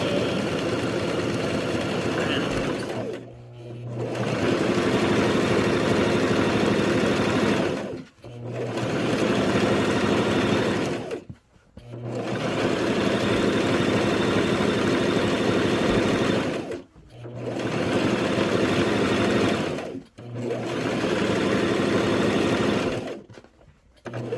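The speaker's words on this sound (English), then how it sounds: "And we're going to begin sewing the back stitch." A sewing machine runs a back stitch in long steady bursts of whirring motor and rapid needle clatter, stopping briefly about five times between runs, close and loud with no talk.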